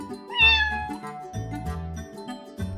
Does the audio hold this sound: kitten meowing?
yes